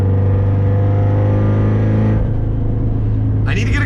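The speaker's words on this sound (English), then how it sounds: "Love how you just hear the turbo spool up." Loud engine roar from a 500 hp Subaru STI with a Tomei exhaust during a second gear pull, a steady harmonic drone that drops off midway, then a brief rising whistle near the end as the turbo spools.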